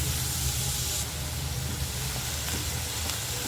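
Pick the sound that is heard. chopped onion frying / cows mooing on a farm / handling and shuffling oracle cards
chopped onion frying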